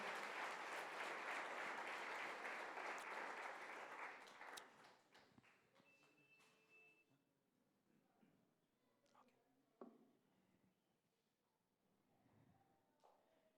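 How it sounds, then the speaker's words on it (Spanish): A church congregation applauds steadily and loudly during a worship service, the clapping thinning out after a few seconds into scattered claps and quiet room noise. "Dele ese aplauso a la bendita palabra de Dios, por favor."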